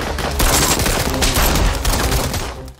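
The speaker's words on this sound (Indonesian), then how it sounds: "Raja dan para polisi saling baku tembak." Heavy gunfire from a film shootout between a gang leader and police, dense overlapping shots and bursts filling the whole clip at close, loud level.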